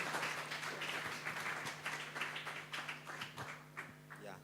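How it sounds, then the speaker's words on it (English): Audience applause for the panel members at a university AI for health symposium: steady, dense clapping from a room full of people over several seconds, thinning toward the end into scattered individual claps, with a constant low hum underneath. "Please let's clap for our panel members."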